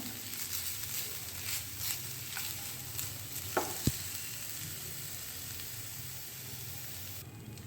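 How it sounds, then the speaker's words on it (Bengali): Grated coconut stirred in a pan over a low flame, giving a faint, steady soft sizzle with a few light scrapes of the spoon midway, no voices. "ফ্লেমটা লো করে আমি নারকেল কোড়াটা একটু নেড়ে নিচ্ছি"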